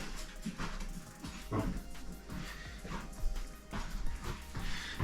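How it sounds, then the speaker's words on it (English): A dog at a door whimpers and yips to be let in, with scattered short scratching bursts against a steady low hum, fairly close and moderately loud. "Sorry, the dog scratched the life out of the door here, better let me in."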